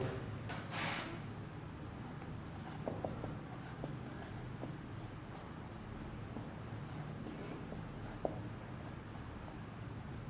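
Marker or chalk scratches faintly across a classroom board while a sentence is written, a soft uneven rubbing with a few light taps, quiet and alone without speech.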